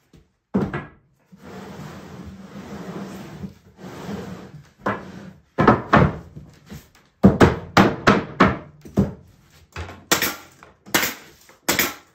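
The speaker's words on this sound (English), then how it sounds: "And I staple every one." Bee hive box parts being stapled together, a run of sharp, loud clacking bursts, irregular at first and then quicker near the end, with quieter rustling and handling between the shots.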